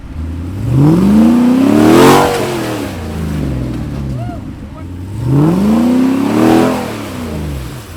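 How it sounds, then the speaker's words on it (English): Jeep engine on an off-road trail with the exhaust valve open, revving in two loud rising and falling surges separated by a lower idle, with a voice talking over it. "opened the exhaust valve so he could at least sound a lot cooler"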